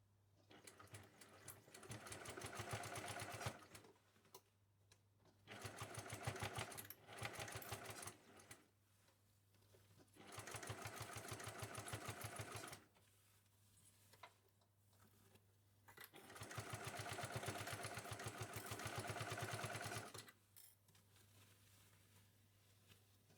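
Sewing machine stitching the finishing seam of a tote bag, loud and close in four long bursts of rapid, even needle rhythm separated by short quiet pauses.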